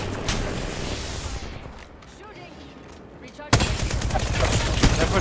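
Video game gunfire crackles in sustained rapid bursts, then erupts louder and denser partway through, with a voice talking intermittently over the shooting.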